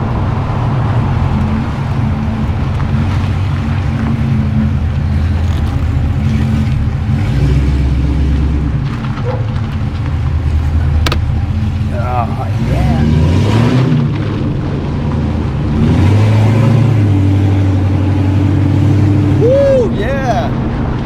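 A C6 Corvette convertible rolls slowly down back alleys, its engine rumbling steadily at close range with brief revs and speech over the drone.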